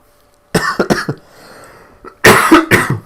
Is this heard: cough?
yes